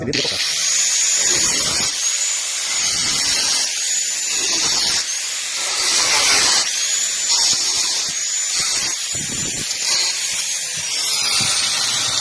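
A small power tool cuts out rusted sheet metal from a vehicle body for a patch repair, giving a loud, high-pitched whining grind that runs steadily with short dips and surges as the cut proceeds.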